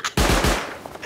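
Automated auto turret in the Rust survival game fires a loud, close burst of rapid shots, three or four heavy thumps in quick succession, then trailing echo and faint clicks.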